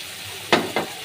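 Ground spices such as cumin and coriander powder hitting hot oil for a fish curry, a quiet low sizzle then two sharp bursts of crackling in quick succession, close by.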